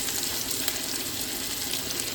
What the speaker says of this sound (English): Those are frying up good.